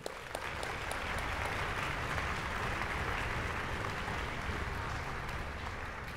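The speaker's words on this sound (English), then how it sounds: "Let's give him a big round of applause." A large audience at a high school music festival gives a sustained round of applause, dense steady clapping at an even level that holds loud for the full stretch.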